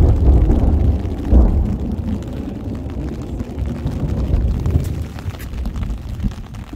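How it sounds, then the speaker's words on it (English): Deep, rolling thunder rumbles over the open shore of Yellowstone Lake at a geyser basin, a loud low boom near the start that fades into a long, steady grumble. "Thunder."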